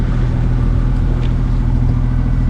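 A sailboat's engine drones loud and close under sail in the Balearic Islands, a steady low rumble that holds without change throughout.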